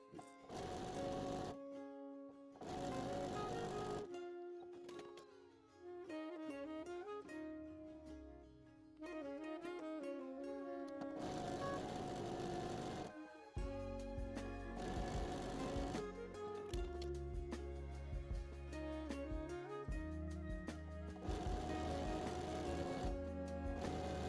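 A home sewing machine stitches quilt scraps together into fabric in loud, steady whirring runs, stopping and restarting several times, close up with no talking.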